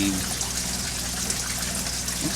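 Water from a hose gushes steadily into a catfish tank on a farm, a continuous splashing fill heard up close with no talking over it.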